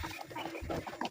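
Two chickens cluck in short, soft bursts over about a second, close by with a steady low background and no talking.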